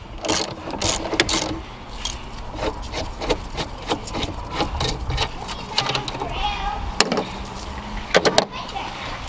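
An E14 socket wrench works loose a valve cover bolt on a BMW 335i N54 engine, giving a series of sharp ratcheting clicks and scraping metallic rubs, close and fairly loud.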